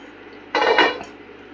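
A pot of chicken chukka is opened and stirred, giving a brief cluster of metallic clanks and scraping that lasts about half a second amid otherwise quiet kitchen air.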